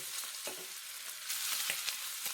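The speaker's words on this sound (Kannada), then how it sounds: "ಈಗ ನಮ್ಮ ತುಪ್ಪಕ್ಕೆ ಆಗ ನಾವು ರೆಡಿ ಮಾಡಿ ಇಟ್ಟಂತಹ ಫ್ರಾನ್ಸನ್ನು ಹಾಕಿಕೊಳ್ಳೋಣ" Prawns sizzle steadily in hot ghee for a Mangalore-style ghee roast, a loud close crackle with occasional stirring scrapes throughout.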